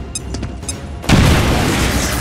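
A frag grenade detonates in the video game XCOM: Chimera Squad, a sudden loud booming blast after a second of light clicks, followed by a sustained rumbling roar.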